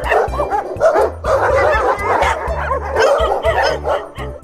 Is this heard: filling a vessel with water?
no